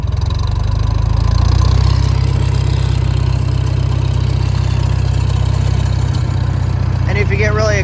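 A Farmall M tractor engine runs steady and close with the throttle raised, a dense low rumbling drone held for several seconds without pause.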